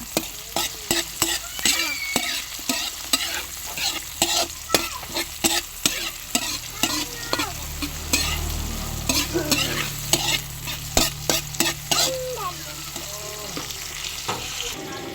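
Hot cooking oil in a pan sizzles steadily while a utensil stirs and scrapes in quick repeated clacks, close and loud, during home cooking of a monggo (mung bean) dish with meat and tomatoes.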